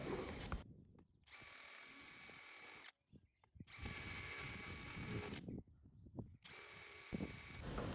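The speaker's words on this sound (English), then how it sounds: "use a split point drill to drill some of that out and get rid of it" A split point drill bit bores out the head of a coupling pin on an early Ford, in three sustained whirring bursts separated by short pauses with faint clanks, loud and close, no talking.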